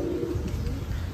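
Giribaj pigeons at a pigeon farm give a brief, close, low cooing murmur under a steady background hum.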